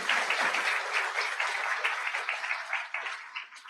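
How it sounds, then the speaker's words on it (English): Audience applauding at a 2024 EHE convocation, a dense burst of many hands clapping that gradually thins and tapers off over a few seconds. "So please give a round of applause to these educators."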